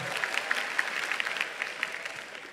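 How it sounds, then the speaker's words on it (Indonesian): Audience applause at a national climate dialogue event in Indonesia, a steady crackle of many hands clapping at moderate distance, fairly quiet and continuous with scattered louder claps. "terima kasih yang tepuk tangan"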